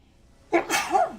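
A single sudden sneeze, sharp and close, with a quick intake then an explosive breathy burst trailing off.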